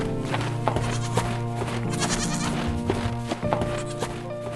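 White goats riding in a green truck bleat repeatedly over a steady layered background of music and mechanical drone. The short, wavering cries overlap one another throughout.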